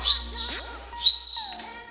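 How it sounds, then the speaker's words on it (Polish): Two sharp, shrill blasts from a small keychain whistle, each about half a second, loud and close, separated by a brief pause. "bryloczek z gwizdkiem"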